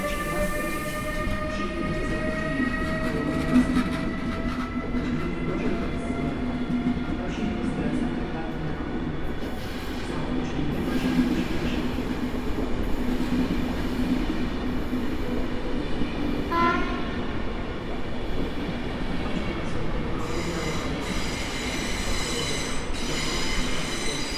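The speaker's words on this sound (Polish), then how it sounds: "Pociąg ekspres Intercity Premium ze stacji Gdynia Główna planowy przyjazd na godzinę" An Intercity Premium express passenger train from Gdynia Główna rolls steadily into Kraków Główny station at close range, with a continuous rumble, metallic wheel squeal and tonal ringing from the rails, and no voices.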